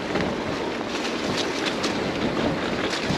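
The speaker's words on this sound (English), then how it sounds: "it's so windy now as well" Strong wind roars steadily across an outdoor mountain-bike trail, a dense continuous rush buffeting the microphone with gusty swells and no voices.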